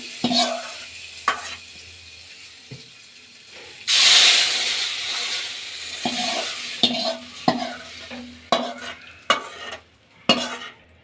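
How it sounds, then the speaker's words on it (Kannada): Tempering sizzles in hot oil for raw mango gojju, a loud burst of frying hiss that then settles into a quieter crackle, punctuated by several sharp spoon clinks against the pan. "ಒಗ್ಗರಣೆ ಕೊಟ್ಕೊಳ್ಳೋಣ ಹಸಿ ಮಾವಿನ ಗೊಜ್ಜು"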